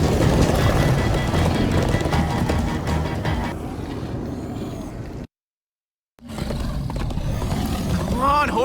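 Horses galloping in Minecraft: Story Mode, with rapid hoofbeats under a loud rushing roar of action game sound, a brief silent gap midway, then the galloping and noise resume.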